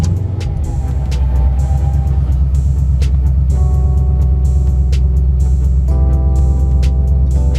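A car fitted with headers and running a BAMA 93 race tune cranks and catches, then settles into a loud, steady, deep-rumbling idle close by.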